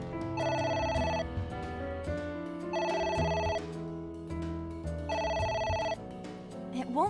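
Telephone ringing in the video game AI: The Somnium Files: three repeated ring bursts, each about a second long, over steady background music.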